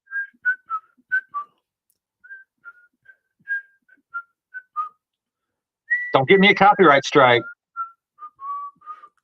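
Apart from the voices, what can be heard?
person whistling a tune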